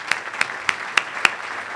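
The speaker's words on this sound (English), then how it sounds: "Let's give him a round of applause." A few sharp, separate claps ring out at a steady pace, like a small group beginning to applaud at a luncheon, with faint background noise between them.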